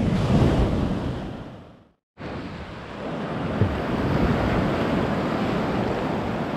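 Strong ocean waves at high tide on a beach in Sarangani, a loud continuous roar of surf with heavy wind buffeting the microphone, briefly cut out before resuming.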